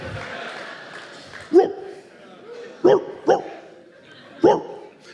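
A man on a comedy stage imitates a dog barking, giving four sharp, loud woofs spaced a second or so apart, the first single and the others in a quick pair and then alone.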